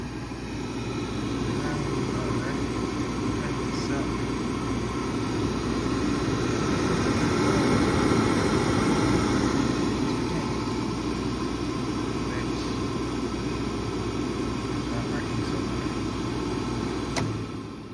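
A converted furnace rigged as a shop waste-oil burner and fired on diesel roars steadily, a loud continuous blowing rumble of burner and fan that holds for the whole stretch with faint ticks on top.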